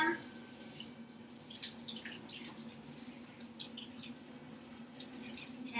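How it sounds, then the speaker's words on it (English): Water pours from a tap over freshly cut broccoli in a home kitchen, a steady soft rushing with faint drips and splashes, close by and fairly quiet, continuous throughout. "We're going to go ahead and pour our water in over them."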